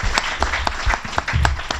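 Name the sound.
applause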